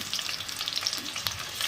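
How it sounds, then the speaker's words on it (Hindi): Onions fry with ginger-garlic paste for a vegetable biryani, making a dense close sizzle and crackle with a few light stirring taps. "इसी के साथ नाज़रीन मैं डाल दूँगी अदरक लहसुन का पेस्ट,"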